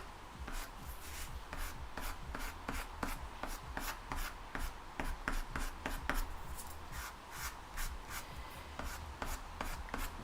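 Pastel pencil scratches and rubs across Canson velvet paper while drawing a dragonfly, a steady run of close, soft strokes with sharp repeated ticks in an uneven rhythm throughout.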